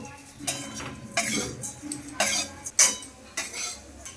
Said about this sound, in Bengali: এবার শুকনো খোলায় ওটসটাকে একটু ভেজে নেব